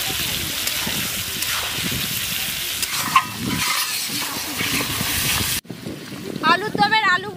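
Cut potatoes for aloo dum fry in oil at an outdoor riverside winter picnic. A loud, busy sizzle is stirred throughout, then the sound cuts abruptly near the end to a quieter outdoor background.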